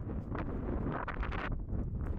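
Steady wind buffets a microphone on the slopes of Villarrica Volcano near Pucón, Chile, a loud continuous rumbling gust over about two seconds with no talking.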